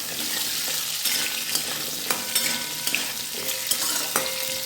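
Pumpkin pieces fry in a pan, a continuous loud sizzle broken by the scrape and clink of a spatula stirring them at intervals.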